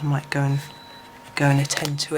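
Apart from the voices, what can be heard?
No everyday noises stand out.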